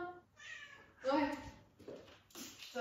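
A cat meows several times in short, plaintive calls, close by and fairly quiet, mixed with a person talking.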